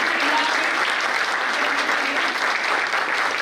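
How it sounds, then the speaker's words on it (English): A big round of applause from the audience at a cardiovascular society installation ceremony in Nashik, a dense, steady wash of clapping that holds at full strength for a few seconds with no talk over it. "let's put a big round of applause"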